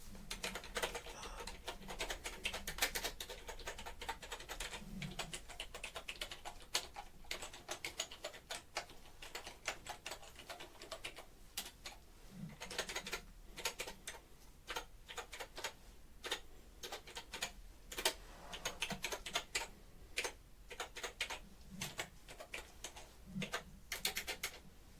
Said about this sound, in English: Put that keyboard away.